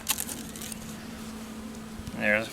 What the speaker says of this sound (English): There's a few bees came out with it